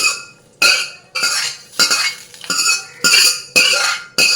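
A spoon stirs curry leaves, cumin and dried chillies in hot oil, making about eight sharp, evenly spaced metallic clinks and scrapes against the pan, close and loud.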